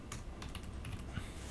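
Quiet keystrokes on a computer keyboard, a quick irregular run of soft clicks typed close by over a faint background hiss.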